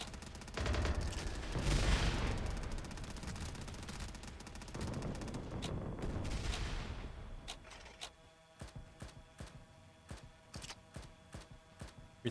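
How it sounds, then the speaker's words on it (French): Machine gun fire in an online shooter game, a dense sustained burst of rapid shots for several seconds, then sparser separate cracks and short volleys, fairly loud and without speech. "Mitraille, mitraille, mitraille."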